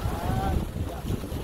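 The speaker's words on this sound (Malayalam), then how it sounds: "ഇവിടെ കാറ്റ് ഭയങ്കരമായതുകൊണ്ട് നമ്മൾ കുറച്ച് സ്ഥലമൊന്ന് മാറിയിരിക്കാൻ പോവാണ്" Strong wind buffets the microphone on a fishing trip by the water, a low continuous rumble with gusty swells and a brief faint tonal whistle.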